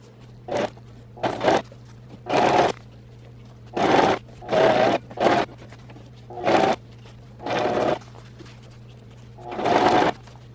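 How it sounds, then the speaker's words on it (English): A sewing machine stitches a cloth diaper in short stop-and-go bursts, roughly ten quick runs separated by pauses over a constant low motor hum, close and fairly loud. "you're going to have to stop and go while you're sewing quite a bit"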